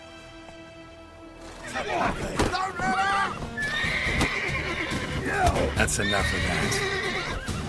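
In The Witcher 3, a horse gives several loud whinnies and neighs with clip-clopping hooves, while someone speaks over and between them.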